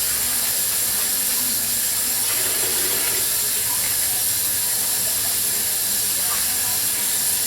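A kitchen tap runs steadily while hands are washed during salmon cake dinner prep, giving a continuous, fairly loud hissing rush of water with no clear breaks.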